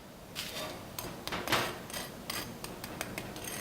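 Crispy pan-fried falafel patties crack and crunch in a quick series of sharp, brittle snaps, close by but quiet, with short pauses between the bursts.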